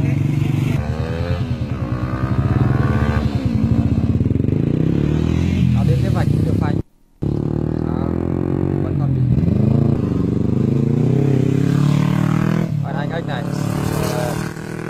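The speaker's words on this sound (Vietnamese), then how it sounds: "Bài tập tăng tốc và phanh từ 0 đến 6," A motorcycle revs hard as it accelerates, then brakes hard from 60 km/h during an emergency braking drill, its loud engine close and continuous with a brief drop-out midway, while someone talks over it.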